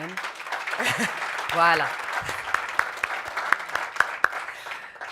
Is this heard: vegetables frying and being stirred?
no